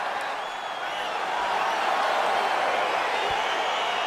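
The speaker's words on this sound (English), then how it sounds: "crowd getting excited as this fight gets underway" A virtual arena crowd in the UFC 4 fighting game roars in a steady, swelling wash of cheering around the octagon as a bout begins, loud and continuous.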